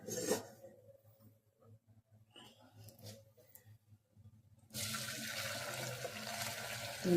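Water drains from boiled basmati rice through a strainer, starting with faint drips and trickles, then a sudden loud, steady gush of pouring liquid near the end.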